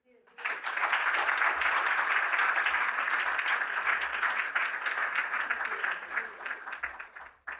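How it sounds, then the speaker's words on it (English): A crowd applauding steadily, sustained clapping that swells quickly and holds for several seconds before tapering off. "Can we just give Gary Foley another round of applause, I think, for his role and for that."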